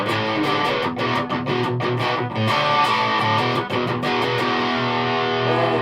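Electric guitar played through a Twinote PI Fuzz pedal with distortion set at 12 o'clock, giving loud, saturated chords and riffs with rhythmic picked attacks and no speech.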